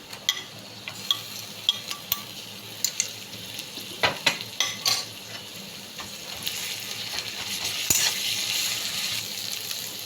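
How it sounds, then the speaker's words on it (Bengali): Onions frying in a pan with ginger-garlic paste added make a low sizzle with repeated sharp spatula taps and scrapes, the frying growing slightly louder toward the end. "পেঁয়াজটা ভাজা হয়ে গেছে। আর আদা রসুনটার কথা বলা হয়নি, আদা রসুনটা আমি বেটেই রেখেছিলাম"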